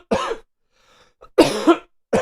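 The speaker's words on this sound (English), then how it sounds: "I'm coughing" Several harsh coughs close to the microphone: one short cough, a pause, then a heavier double cough, and the start of another.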